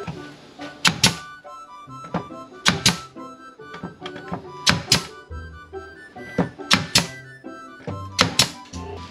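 Wooden boards are fitted onto a bed frame with repeated hollow thunks and clacks in irregular bursts, close by and fairly loud, with no talking.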